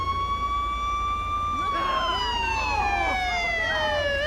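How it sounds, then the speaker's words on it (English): A wailing ambulance siren in GTA V with the LSPDFR mod sweeps in loud and close, joined by a second warbling siren partway through as the vehicle arrives. "Here comes the ambulance"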